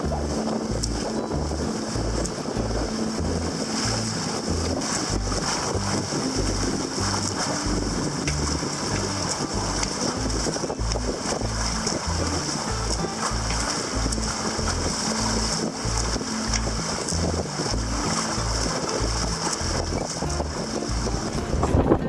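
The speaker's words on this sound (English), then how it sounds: "I know it's windy as hell." Strong wind roars steadily across the microphone alongside the rush of water against a moving Windrider 17 trimaran sailboat, loud and continuous with no voices.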